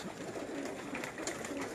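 Falcon-breed pigeons coo softly in a loft, a low murmuring coo repeated against steady background noise, with no one speaking.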